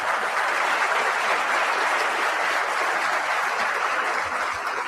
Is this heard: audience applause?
yes